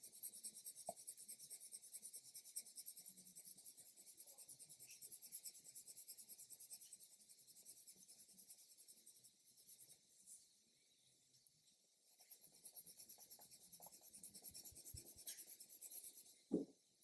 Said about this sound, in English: with my black pencil, I'm going to darken towards the edges